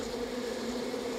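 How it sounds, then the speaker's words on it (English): Bees in the Far Cry 5 video game give off a steady, low droning buzz that holds evenly at a moderate level throughout, with no talking over it. "Oh, these are where the bees are."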